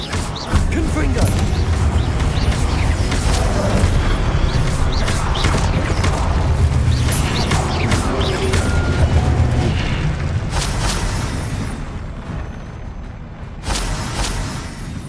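Repeated Confringo fire-spell blasts from the video game Hogwarts Legacy, loud booming bursts over a constant rumbling game soundscape, with a voice calling out spell names throughout.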